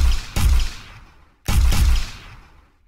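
Two sharp projectile shots in an Unreal Engine 4 demo, each a heavy bang that trails off in a fading tail, about a second apart and heard alone.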